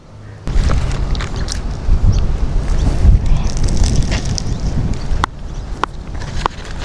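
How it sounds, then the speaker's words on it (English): Gusty wind buffeting the microphone, low rumbling roars rising and falling continuously, with a few sharp clicks and knocks. "It's a bit windy."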